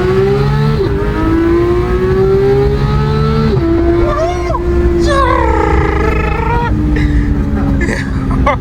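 A Porsche GT3 engine drones and revs up through the gears while driving, rising and dropping in pitch, loud and close, with voices talking over it.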